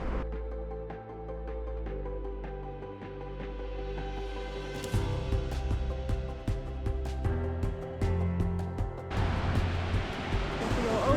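Rushing mountain river on a Mount Whitney trail through avalanche-damaged ground, a steady broadband roar of water that grows louder and nearer across the crossing and swells further near the end, with no talk over it.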